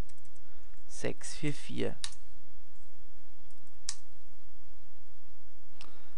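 Keystrokes on a computer keyboard as someone types a short command at a Debian terminal, a brief burst of clicks followed by a few isolated taps, with a voice speaking over the start.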